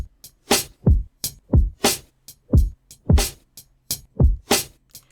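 A short drum loop runs through the Transit 2 dynamic warble effect, an envelope follower reacting to the strongest hits. The kicks and snares keep a steady looping groove, with a subtly wobbling, modulated character.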